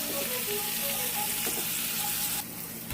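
Sweet peas with a little added sugar boil in a pot, giving a steady close bubbling hiss with small pops, which drops off near the end.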